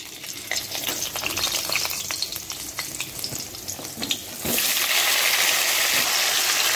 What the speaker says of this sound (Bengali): এই যে মাছের ভাজা তেলের মধ্যে আলুটি ভেজে নেব।